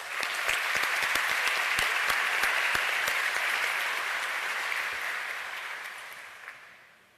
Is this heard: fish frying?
no